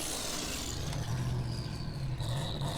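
Formula Offroad buggy Thunderbolt running an off-road competition course in Akureyri, Iceland, its engine droning steadily and fairly close, a rising whine climbing over the low rumble, with no talk.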